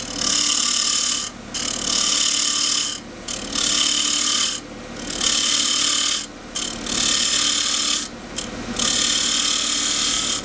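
A wooden box turns on a lathe while a 3/8 spindle gouge cuts it, making a loud, steady rasping hiss in long passes broken by several brief pauses, close and without speech.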